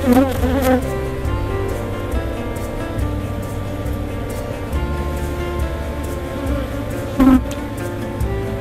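A dense, steady buzzing of many honey bees at a hive during queen rearing fills the air close by, droning continuously with a few louder swells.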